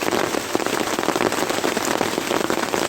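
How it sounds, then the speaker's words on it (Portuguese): Heavy rain pours steadily on a carnival campsite, a dense, constant patter with no voices. "chuva de novo."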